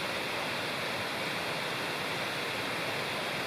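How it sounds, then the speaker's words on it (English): Steady rushing water from a nearby creek in a forest on a cloudy day, a continuous even wash of sound with no voices. "the creek is right over there, which I think you can probably hear"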